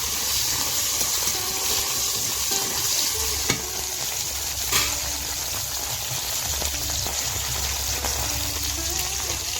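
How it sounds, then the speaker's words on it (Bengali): Okra fries in hot oil in a pan, giving a steady close sizzle with occasional stirring clatters and small sharp knocks, no one speaking over it. "ফোড়নটা লাল লাল করে ভেজে দিয়ে দেব ভেঁড়ি। দিয়ে ভালো করে ভেজে নেব।"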